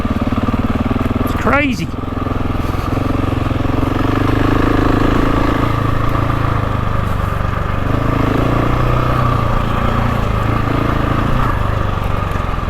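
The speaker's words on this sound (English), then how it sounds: "that's second gear and you can hear it chuffing" A GasGas dirt bike engine chuffs steadily in second gear, a loud continuous drone that holds for the whole stretch while a person talks over it.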